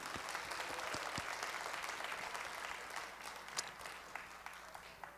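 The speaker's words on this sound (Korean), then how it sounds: "우리 하나님께 감사와 영광의 박수 올려드리겠습니다" A church congregation at a Korean worship service gives a continuous round of applause, a dense wash of many hands clapping at moderate distance, unbroken by speech throughout.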